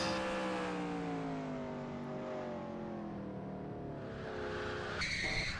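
A race car crash in the NASCAR Racing 2003 video game: engines drone with a long falling pitch and tire noise, then a brief bright burst near the end, with no voices.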